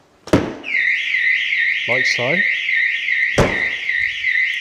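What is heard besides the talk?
Autowatch 457 RLi car alarm triggered by door sensor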